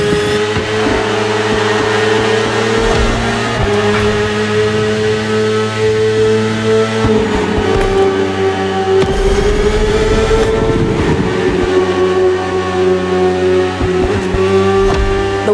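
A BMW S1000RR superbike engine in the video game The Crew Motorfest drones steadily at high revs, pitch rising and dipping slightly as it shifts gears, loud and continuous with no voices.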